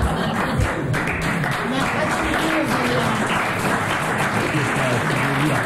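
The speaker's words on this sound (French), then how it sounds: "Il y a tout de même 22 personnes qui ont applaudi." Steady applause from the studio audience of a French radio comedy panel show, a modest crowd of about twenty people clapping continuously at close range, with voices and laughter mixed in underneath.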